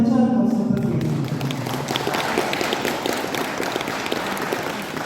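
Audience clapping breaks out at a book event for a biography, starting under the tail of a speaking voice and then continuing as steady, moderately loud applause.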